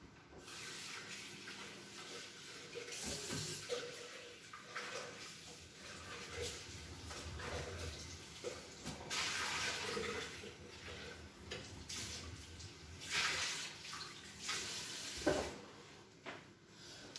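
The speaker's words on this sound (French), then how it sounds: "Donc ensuite, je vais rincer mon bol." A bowl rinsed under a running tap in a home kitchen, a soft continuous splashing of water with irregular louder spurts and clatters, fairly quiet throughout.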